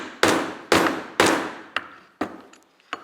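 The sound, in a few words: hammering a copper rivet into leather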